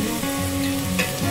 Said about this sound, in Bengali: তো আমি পোলাওটাকে আগে ভেজে নেব